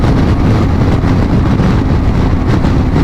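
BMW R1250GS Adventure motorcycle with an electrically opened flap exhaust revved hard around 5,000-6,000 RPM, a loud, steady, dense engine roar that holds close and constant throughout, with no talking.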